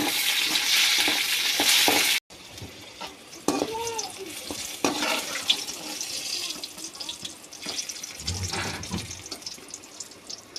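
Green chillies dropped into hot oil give a loud broadband hiss at first, then gentle frying, with the clatter of stirring and scraping and some water running nearby. No one speaks.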